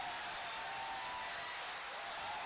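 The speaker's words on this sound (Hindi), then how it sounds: "जरा दोनों हाथों पर उठाकर देर तक जौनपुर की तालियां चाहता हूं।" Applause from an audience at a Hindi kavi sammelan poetry recital in Jaunpur, a faint, even wash of many hands clapping continuously from a distance, with no distinct voices above it.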